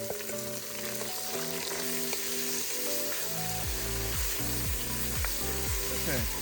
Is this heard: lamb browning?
yes